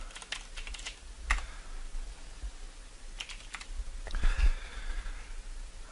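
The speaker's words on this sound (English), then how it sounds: "I'm typing in my information to pull this up." Quick bursts of typing on a computer keyboard, close and fairly quiet, with pauses between clusters of keystrokes and no speech.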